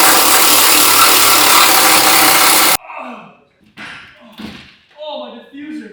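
Harsh, steady power tool cutting through the rusted exhaust of an Audi RS3, loud and continuous for about three seconds before stopping abruptly, followed by people talking.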